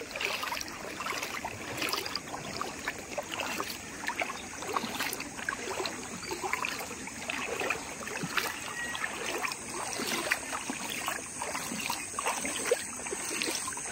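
A clear river flows beside a duck farm, giving a steady, even wash of water with faint trickling detail and no voices.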